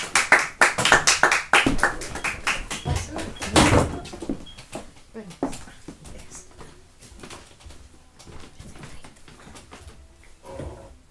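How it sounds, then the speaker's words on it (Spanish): Audience applause at a poetry anthology presentation: loud, dense clapping for about four seconds, then thinning into scattered claps that fade under a quieter room. "Un gran aplauso para Ingrid Córdoba."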